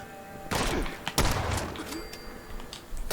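Gunfire in Fallout 76, a couple of sharp loud shots with impacts and reverberant thuds that trail off into lighter game noise.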